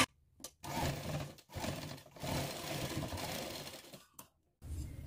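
A home sewing machine runs in several short bursts with quiet gaps between them, stitching a slanted seam across folded fabric at close range.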